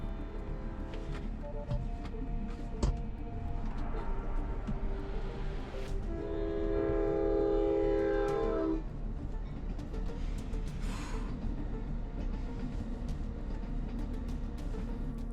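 A train passes a railroad crossing with warning bells, its horn sounding in a steady tonal blast midway, over a continuous rumble of rail noise and faint clanging.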